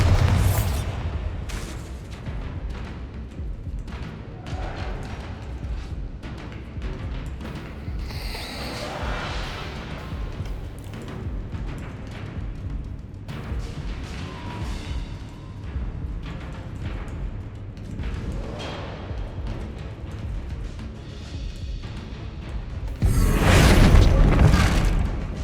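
Bombarda spell in a video game going off with heavy booming blasts, scattered thuds and creaks between, and a final loud eruption near the end; no talk.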